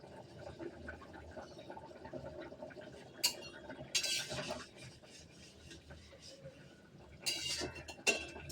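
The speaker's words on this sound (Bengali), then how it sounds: "আর এই থেতোটাই ওপর দিয়ে ছড়িয়ে দেবো।" Utensils clink and scrape against a pan as crushed garam masala is sprinkled over chicken vegetable curry, with a few sharp metallic knocks standing out from softer rustling, and a voice talking now and then.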